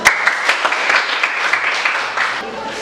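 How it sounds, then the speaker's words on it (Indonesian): Students applauding in a classroom, a dense steady patter of many hands clapping at once, fairly loud and close, holding at an even level. "berikan aplaus"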